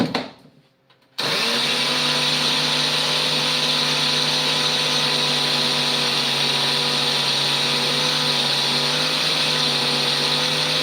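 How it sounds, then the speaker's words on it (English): A kitchen blender starts with a sudden loud whir and runs at a steady high pitch, grinding oats into powder continuously at close range for several seconds. "I'll blend my oat. Still in my blender one more time."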